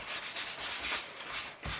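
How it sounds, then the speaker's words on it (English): Close, rhythmic rubbing of sandpaper on balsa wood, a soft hissing scratch repeated in short back-and-forth strokes, with no talking. "So we'll sand it with the other end, other side"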